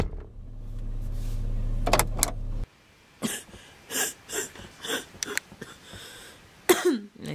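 A low hum fades out, followed by a series of short, sharp coughs and throat-clearing sounds close by, with a final harsh cough.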